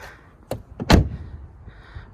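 Volkswagen Passat TDI door swung shut after a door card replacement: a light click followed by a solid, close thud of the door closing, then quiet.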